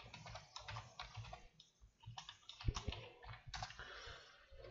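Fingers typing on a computer keyboard, an irregular run of soft close key clicks with brief pauses, quiet and alone.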